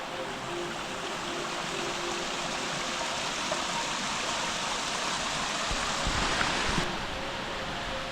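Small creek cascade at Dawson Creek Falls in D'Aguilar National Park, Queensland, Australia: steady, close, full-bodied rush of water pouring over rocks into a pool, continuous and even throughout with no voices.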